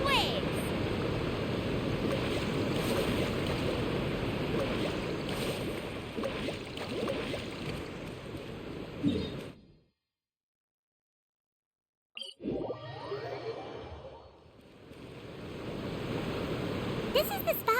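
A boat carves through sea waves in Genshin Impact, giving a steady rushing wash of water and surf that drops into a brief total silence, then returns with splashing and rising spray.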